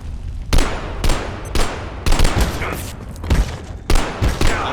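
Gunfire in the video game Abiotic Factor, repeated loud shots in uneven bursts, each with a broadband crack and a low boom, close and dominant, with some speech mixed in.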